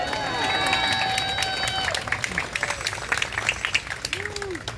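Outdoor rally crowd at a protest against an MTA substation on 28th Street applauds and cheers an outgoing State Assembly member, with voices and sustained clapping over a noisy street backdrop.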